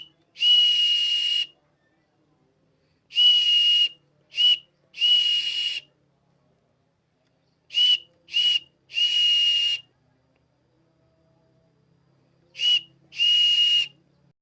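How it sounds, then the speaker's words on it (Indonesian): Morse code is blown on a whistle, sharp piercing tones alone in silence, sounding as a pattern of long and short blasts separated by pauses. "Berikut ini adalah contoh penyampaian kode Morse dengan peluit"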